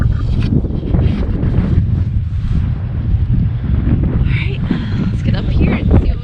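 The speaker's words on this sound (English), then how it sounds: "30 degrees and 20-mile-an-hour winds" Strong, steady wind gusting across an open Michigan farm in freezing weather, a loud continuous buffeting rush against the microphone with people talking over it throughout.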